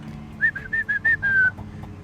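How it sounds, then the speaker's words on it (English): A person whistles to call backyard chickens, a quick run of five or six short, bright notes ending on a longer drawn-out tone, close and clear against quiet background. "I like to whistle,"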